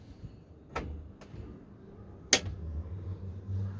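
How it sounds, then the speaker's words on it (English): A soft-close kitchen drawer in a Knaus Live 650 MF Platinum Selection motorhome, heard as a few soft knocks and a sharper thud as it glides shut, with quiet room noise between. "There's soft close on the drawers."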